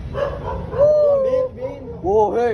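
A husky gives close, whiny yips and short howling barks with rising and falling pitch, mixed with people talking nearby.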